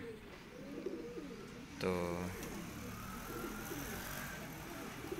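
Fancy pigeons coo softly and repeatedly in low, rolling phrases nearby, with a single brief spoken word and faint traffic in the background.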